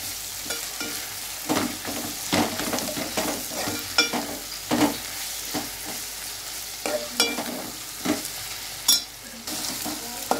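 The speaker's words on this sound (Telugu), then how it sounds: "వచ్చేసి అల్లం వెల్లుల్లి పేస్ట్ వేసేస్తున్నాను." Ginger garlic paste fries in a pan with a soft continuous sizzle, broken by repeated scraping stirs of a spatula at irregular intervals, close and moderately quiet.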